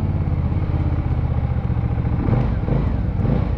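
A Benda Chinchilla 450 V-twin cruiser motorcycle engine runs with a continuous, close, low rumble that stays steady throughout.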